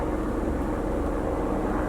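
Loud helicopters flying overhead at a rainforest campsite, a steady broad rumbling drone that holds constant throughout with no talking.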